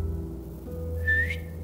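A single short rising whistle in The Walking Dead: The Final Season video game, a clear tone over a low steady background hum, with no talk.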